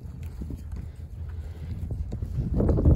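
A runaway horse's hooves clop in an uneven rhythm over a steady outdoor rumble during wild cow roping, growing louder toward the end.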